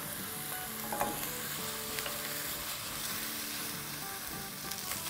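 Onions sizzle in a pan over a medium-high flame, a dense, steady frying hiss with occasional light stirring clicks, close and continuous, with no voices.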